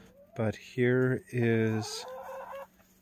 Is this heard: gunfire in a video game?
no